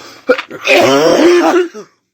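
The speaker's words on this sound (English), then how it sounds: "I'm trying not to cough a lung out." A person clears their throat and coughs harshly at close range, a short choppy burst followed by a strained, rasping hack.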